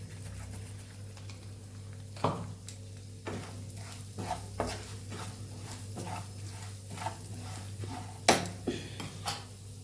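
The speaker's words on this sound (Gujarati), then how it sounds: "તો હિંગ ઉમેરી દઈશું ગેસને સાવ ધીમો કરી દઈશું અને આપણે મસાલાને સાતળી લેશું" Spices and asafoetida frying in hot oil on a very low flame for a red chilli pickle: scattered close clinks and scrapes of a spoon against the pan over a faint sizzle and a steady low hum, with no voices.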